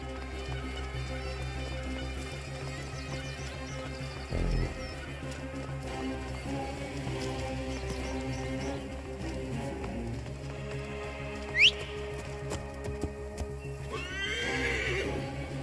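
A horse in Assassin's Creed Origins gives a sharp whinny and a second neigh near the end, with soft clip-clopping hooves over a steady low game ambience.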